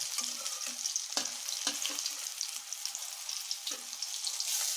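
Mustard flower pakoras shallow-fry in a little oil, crackling in a bright, close sizzle punctuated by a few hard spatula knocks and scrapes against the pan.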